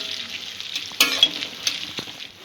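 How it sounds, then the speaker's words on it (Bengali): Chopped garlic frying in hot oil for prawn manchurian, a soft sizzle with a sharp burst as it hits the pan, then a few utensil scrapes, close and alone. "রসুন কুচিটা দিয়ে দিলাম। সব কিছু একটু হালকা ব্রাউন করে ভেজে নেব।"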